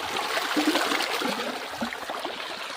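Water gushing under pressure from a fully opened farm irrigation valve, a steady broadband rush with gurgling, close and continuous throughout with no talking.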